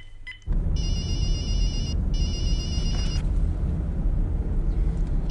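A mobile phone rings nearby with a repeating electronic ringtone in two bursts over a low steady rumble, with no talk.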